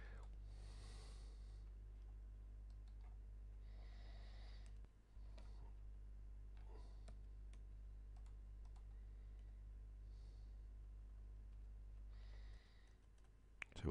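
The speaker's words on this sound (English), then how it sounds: "So let me type this one in correctly" Keys clicking sporadically on a computer keyboard during a Java recursion tutorial, short bursts of taps separated by pauses, fairly faint over a steady low hum.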